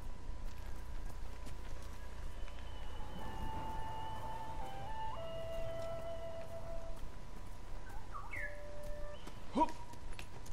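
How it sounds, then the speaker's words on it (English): Horse hooves clip-clop softly in Ghost of Tsushima, a steady walking rhythm under ambient game sounds and faint tonal music, never loud. "You're a good horse, Kage."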